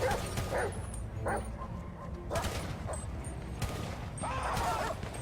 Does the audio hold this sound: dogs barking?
yes